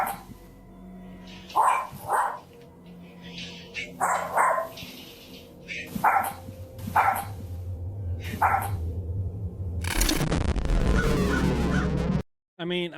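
A dog barks in short, loud bursts in a tense, eerie scene, the barks spaced irregularly over several seconds before a harsh noisy surge near the end.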